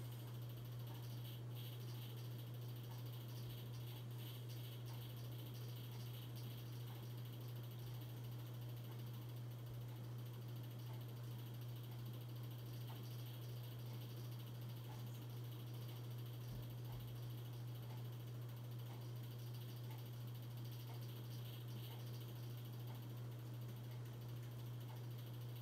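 A 42-inch Hampton Bay Landmark III Plus ceiling fan, 2019 remake, runs with a slight wobble, giving a quiet, steady low hum with a faint airy whir that holds unchanged throughout, with no talking.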